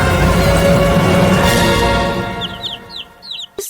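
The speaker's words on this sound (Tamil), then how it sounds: "கோழி அங்கே முட்டை உடைக்கிறது." A chicken clucks in short, faint bursts near the end, following a loud burst of rushing noise that dies away, with a sharp knock at the close.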